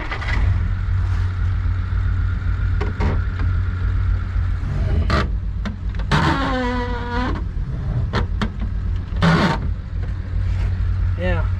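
A 1962 Willys Utility Wagon that sat 28 years runs with a steady, loud engine drone, with a few sharp knocks and a buzzing whine partway through, while voices talk over it.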